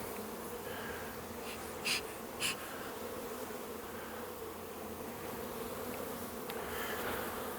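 Honeybees drone in a steady, dense buzz from an opened nucleus hive during brood inspection, with a couple of brief sharper whines as single bees pass close.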